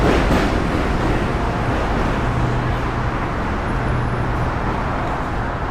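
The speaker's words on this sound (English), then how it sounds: "That was a J train." A New York City subway J train rumbles past on a Williamsburg-to-Manhattan walking route, a loud, steady roar of wheels and cars on rails that fills the whole stretch with constant traffic-like noise and faint tonal hums.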